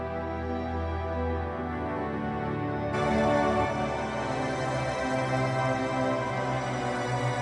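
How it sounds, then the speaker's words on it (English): Two Padmospheres pad samples panned hard left and right swell together into a rich, sustained tonal texture that brightens noticeably partway through and then holds steady at an even level. "We then have two tracks from Padmospheres panned left and right"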